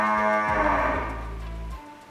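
Cattle at a farm supplying sacrificial cows, a single loud, close, drawn-out moo lasting over a second, tailing off into quiet barn background.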